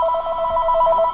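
A telephone rings for an incoming call, a short bright warbling electronic trill, loud and close, heard alone.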